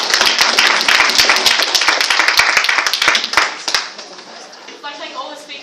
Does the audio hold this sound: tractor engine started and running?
no